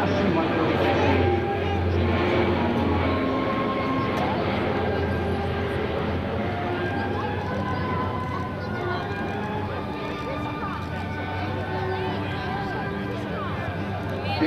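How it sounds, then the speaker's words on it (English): A C-130J-30 Hercules makes a high-speed pass over 250 knots at an air national guard open house, its loud, steady propeller and turboprop roar filling the whole stretch above a murmuring crowd and scattered voices. "Going to be coming by a high-speed pass over 250 knots, about 275 miles an hour"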